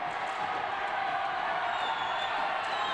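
High school basketball crowd in a Utah gym cheering loudly after a made free throw, a dense continuous roar of shouts and whoops with scattered claps.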